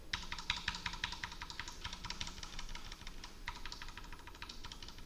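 Computer keyboard keys, including Ctrl and Page Up/Down, are pressed in quick clusters of sharp, light clicks with short pauses between bursts, close and quiet, with no voices.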